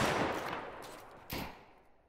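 Gunfire in the survival video game Deadside: a loud burst opens and fades, then a second sharp shot or short burst lands about a second later, both with a ringing echoing tail.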